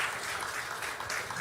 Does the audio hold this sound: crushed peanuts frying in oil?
no